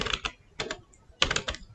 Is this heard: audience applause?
no